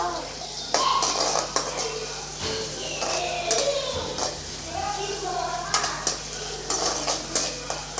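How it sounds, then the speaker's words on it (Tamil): Onions sautéing in a pan for egg gravy, with a spoon scraping and stirring in repeated bursts over a soft sizzle, with occasional clinks of utensil against metal; a low steady hum sits underneath. "வெங்காயம் கொஞ்சம் சவந்து வர்ற அளவுக்கு நல்லா வதக்கிக்கலாம்"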